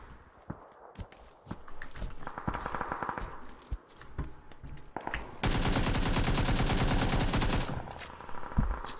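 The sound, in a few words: AK rifle full-auto gunfire in a shooter video game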